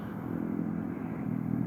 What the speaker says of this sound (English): that was actually the sound of a motorcycle